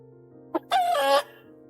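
A rooster crows once, loud and close, a short harmonic call after a brief clucking note, with a steady low hum underneath.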